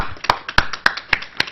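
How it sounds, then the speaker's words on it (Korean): Sharp, evenly spaced handclaps ring out in a steady rhythm at a press conference, with no talking over them. "우리 다 같이 박수로."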